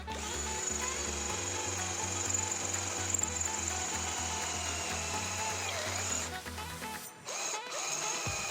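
A cheap cordless impact drill that looks like a DeWalt bores with a dull steel bit, its chuck slipping: a long, steady whine with a low churning hum, then a few brief stops and restarts near the end.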